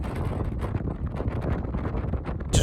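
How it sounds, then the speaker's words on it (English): Strong wind buffets the microphone in a constant roar, with gusts rising and falling throughout. "Windy. It's windy."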